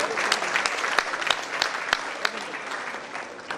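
A convention audience at the 32nd IATO gathering in Chennai breaks into steady applause, a dense wash of clapping with a few sharper individual claps standing out, sustained at even loudness throughout with no talk over it.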